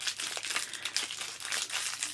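Plastic packaging around vanilla wax melts crinkles and crackles up close as it is worked open, a dense continuous rustle lasting a couple of seconds with no speech.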